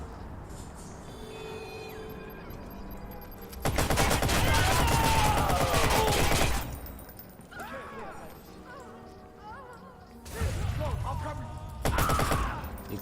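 Bursts of gunfire in the video game Watch Dogs, loud volleys around 4–6 s and again near 10–12 s, with quieter game sounds between them and voices talking throughout.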